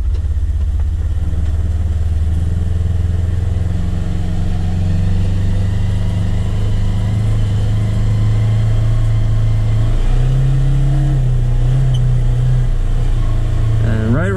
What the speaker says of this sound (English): It's not even like squealing, it's just like a whirring sound, like a whining.